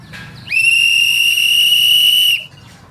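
A traffic officer blows one long, loud, shrill whistle blast lasting about two seconds, with faint street noise before and after.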